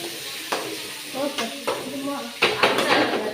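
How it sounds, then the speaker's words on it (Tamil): Onions sautéing in a pan while stirring sounds and a few clinks of a utensil rise over a low sizzle, with bitter gourd being added; brief voices can be heard in the background. "வெங்காயம் நல்லா வதக்கிட்டோம் வதங்கினதுக்கப்புறம் பாவக்காய் சேர்த்துவோம்"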